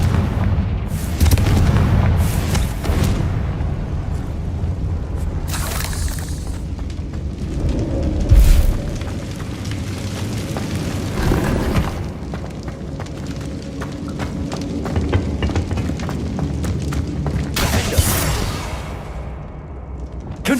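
Confringo spell blasts in Hogwarts Legacy boom repeatedly amid combat, with heavy low explosions and crackling bursts layered over a dense, continuous battle din, loud and close.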